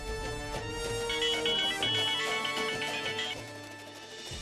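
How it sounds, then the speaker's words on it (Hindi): A phone rings back during a call to Samar, with a repeating electronic ringtone mixed into a busy musical background and heard at moderate volume. "एक मिनट, समर को फोन करते हैं।"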